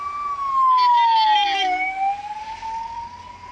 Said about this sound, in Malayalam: അടുത്ത ആംബുലൻസ് പോകുന്നുണ്ട്, മഴ സമയമാണ്.